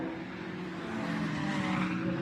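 A Ferrari Challenge race car spins at Laguna Seca during qualifying, a sustained engine drone with tire scrub heard at a distance as a continuous, steady roar with no voices.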